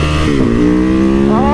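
A Yamaha WR 250R motorcycle engine revs loudly and close while riding twisty roads, its pitch sliding down then climbing again as the rider works the throttle, with no talking.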